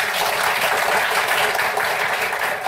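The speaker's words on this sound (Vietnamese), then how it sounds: "chúng ta hãy cho chị Hảo tràng vỗ tay" An audience applauds steadily, a dense continuous wash of many hands clapping at close range for the whole stretch, with no pauses.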